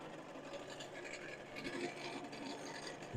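Woodturning on a lathe with a spindle gouge, a steady scraping, rasping cut into spinning wood that holds at an even level for a few seconds, close and alone with no talk.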